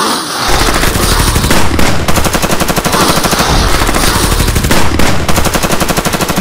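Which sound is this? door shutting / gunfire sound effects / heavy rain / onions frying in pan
gunfire sound effects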